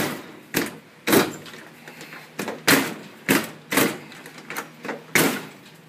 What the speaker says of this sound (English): when I slam the door shut